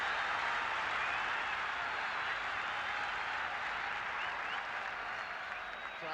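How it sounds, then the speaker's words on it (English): A football stadium crowd at a Northern Ireland versus England match roars and applauds in a loud, sustained wall of cheering that barely dips throughout. "Crowd ready to cheer anything that's done by the men in the green shirts."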